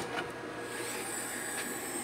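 An electric fan runs on a pure sine wave inverter with a steady, even whir and faint hum, continuous and fairly quiet with no talking.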